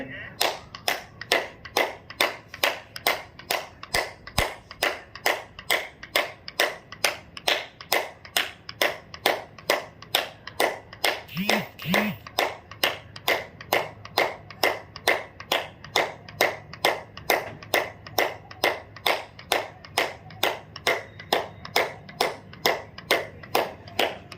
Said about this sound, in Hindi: एक साथ शुरू करेंगे, ताली बजाएंगे।